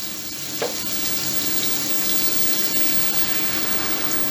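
Mutton frying in a pot with about a cup of yogurt added, a steady close sizzle and bubbling that holds at an even level throughout, with a brief clink near the start.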